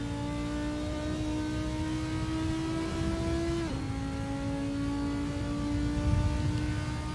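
An Audi R8 GT4 in Assetto Corsa at Silverstone accelerates steadily, its engine pitch climbing, dropping sharply at one gear change, then rising again; a constant, moderately loud onboard drone with no voices.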